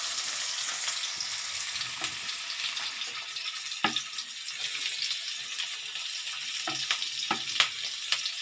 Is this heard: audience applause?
no